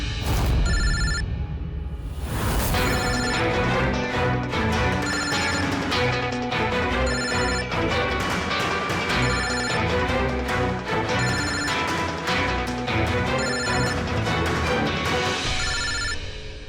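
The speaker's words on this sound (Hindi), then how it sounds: "कोई फोन क्यों नहीं उठाता? फोन उठा लो।" A telephone rings over and over in a repeating electronic pattern, loud and insistent, with no voices.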